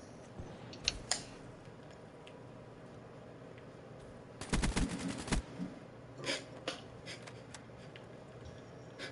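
Gunfire in the shooter game Call of Duty Black Ops 3: a rapid, loud burst of shots in the middle, with scattered single cracks before and after over quiet game ambience.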